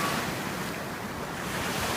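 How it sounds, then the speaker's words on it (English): Big Pacific Ocean waves surging and crashing near the shore, a broad continuous roar of surf with wind noise and no speech. "I no longer risk myself with these huge waves."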